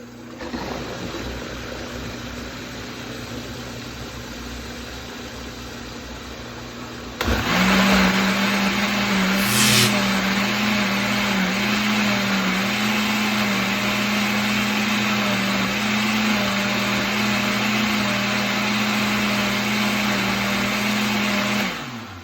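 A blender whirring as it churns paper pulp for comic book conservation, starting abruptly after a quiet room hum and holding a loud, steady motor drone close by until it cuts off.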